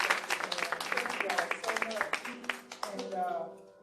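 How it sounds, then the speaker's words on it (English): Audience applause at a civic meeting with at-large council candidates, a dense patter of clapping that thins out toward the end, with voices mixed in. "Let's give them a round of applause."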